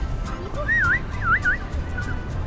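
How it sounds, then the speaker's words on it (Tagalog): A bird calls several times in short, clear whistled warbles, sliding up and down in pitch, over a low background hum. "May ibon guys, oh."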